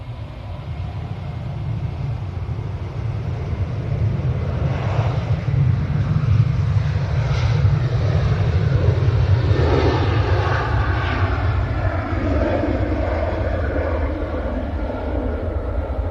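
A Ryanair jet departs Manchester Airport, its engine roar a loud, steady broadband rumble that holds throughout without any talk.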